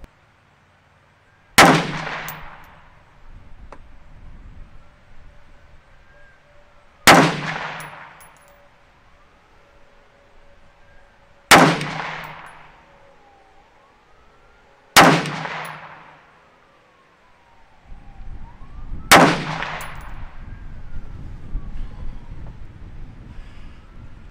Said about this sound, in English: we're gonna shoot a 5-shot group,